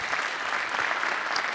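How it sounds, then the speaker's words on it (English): An audience at an evening event in a church gives a round of applause, a dense, steady burst of many hands clapping close and loud with no talking over it. "Give Dr. Curl and Rodney another round of applause."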